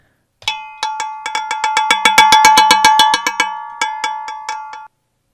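A metal bracket tapped with a pair of scissors produces a quick series of bright, ringing metallic clinks that speed up and then slow, each hit leaving a sustained bell-like tone, close and alone.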